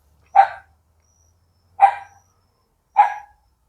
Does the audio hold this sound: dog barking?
yes